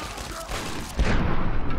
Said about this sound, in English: Time to throw grenades at them.